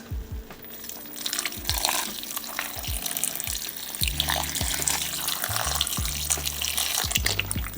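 Beef broth pours into a cooking pot, a steady close liquid splash and gurgle with some bubbling, moderately quiet and alone.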